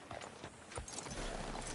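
Horse hooves clop steadily in a game scene, a rhythmic thudding under a busy ambient backdrop with no speech.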